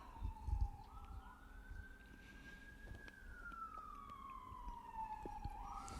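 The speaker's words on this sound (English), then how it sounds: "It's probably an ambulance." A distant ambulance siren in Tacoma wails in a slow rising and falling sweep, faint against low background rumble and passing noises.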